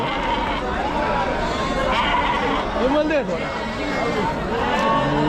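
Sheep at the crowded Chakan goat and sheep market bleat repeatedly, several overlapping calls near and farther off, under a constant din of people talking and milling about.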